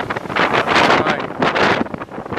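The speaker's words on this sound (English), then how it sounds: "Sun, but more importantly, there's wind." Wind blowing hard across a sailboat at sea during a solo transatlantic crossing in squally weather, a loud continuous roar with gusty surges battering the microphone.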